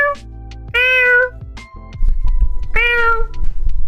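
A person imitates a cat, giving two drawn-out, whiny meows close to the microphone, separated by a short pause over low background noise.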